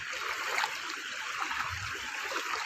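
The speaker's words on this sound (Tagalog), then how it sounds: "Mas malakas yung agos ng tubig doon, no?" Strong floodwater current rushing through a flooded street in Talomo, Santo Tomas, Davao, a steady close broadband wash and gurgle with no break, nobody speaking over it.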